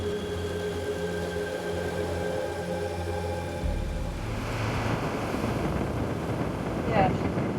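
Severe wind gusts buffet the microphone on Namibia's Skeleton Coast during a cycling expedition, a steady hum giving way after a few seconds to a louder, rougher rush of blowing air that continues to the end.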